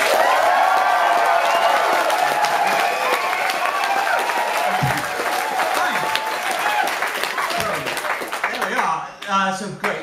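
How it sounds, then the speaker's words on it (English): A studio audience claps and cheers at a live comedy show, a steady loud wave of applause with whoops that fades slightly before a brief stir of voices at the end. "can we now clap and cheer"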